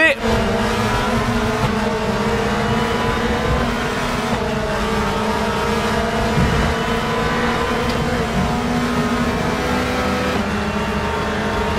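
Race cars in the RaceRoom racing game, including a Lada and a Volvo, roar continuously with engines droning and shifting as they pass, loud and close, with a commentator talking over them throughout.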